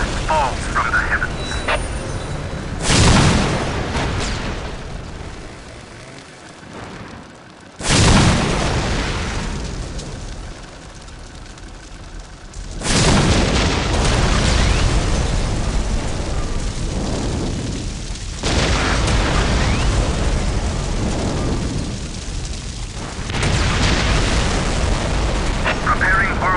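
Whirlwind missile battery explosions in the video game Dawn of War: a series of heavy booms lands about every five seconds, each a loud broadband blast that decays into a rumbling tail.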